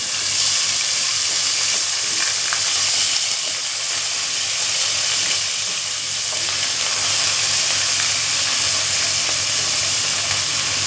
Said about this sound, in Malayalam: ഞാനിവിടെ രണ്ട് ടീസ്പൂൺ ജിഞ്ചർ ഗാർലിക് പേസ്റ്റ് ചേർത്ത് കൊടുക്കുന്നുണ്ട് ഇനി അതൊന്ന് മൂത്ത് വരട്ടെ